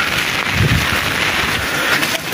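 A storm's wind and rain roar close to the microphone as a continuous broadband rush, with gusts buffeting the mic and swelling briefly before easing back.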